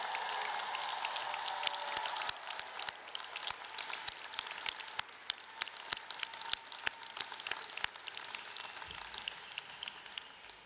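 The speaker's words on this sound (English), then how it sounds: "let's have one more round of applause for our graduates." Commencement crowd applauding graduates at a university ceremony, heard as a fairly faint, sustained wash of clapping from a large audience, with sharper nearby claps standing out through the middle.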